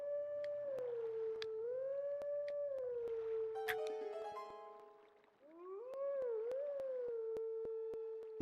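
In Zelda: Twilight Princess, a wolf howls a melodic song in steady, sustained notes that rise and fall, with a brief pause midway before the tune resumes, while soft game sounds tick along beneath it.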